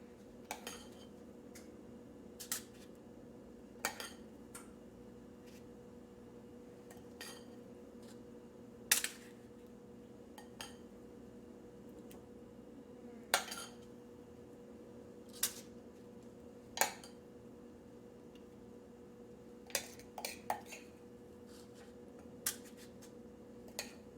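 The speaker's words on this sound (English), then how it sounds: "with my normal serving spoon, nothing fancy, I'm going to transfer this batter into my muffin tins" Serving spoon scooping egg batter with veggies into muffin tins, producing sparse metallic clinks and taps at irregular intervals over a quiet, low kitchen hum.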